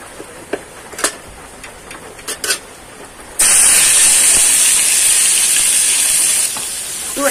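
Chicken pieces hit hot oil in a wok. A few light clicks and taps come first, then a sudden loud, steady sizzle and hiss erupts and holds for several seconds before easing slightly.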